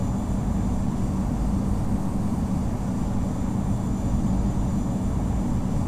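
Airliner taxiing toward the runway at London Heathrow in a flight simulator game, a steady low engine rumble holding at an even level throughout with no talk.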